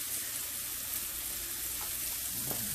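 Food sautéing in a pan alongside a skirt steak churrasco meal, a steady soft sizzle with a couple of faint clinks, quiet and continuous with no talking.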